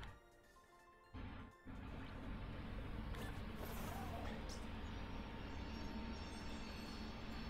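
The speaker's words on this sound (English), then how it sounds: "Sounds like there might be a train coming" A train passing outside rumbles as a low, continuous drone with rattling, clanking wheels and metallic knocks, steady and fairly loud for several seconds, picked up quietly through a room.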